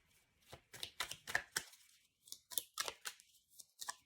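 A deck of cards being picked up and shuffled, a quick run of crisp riffling flutters and snaps in irregular bursts, close and quiet, separated by brief silent pauses.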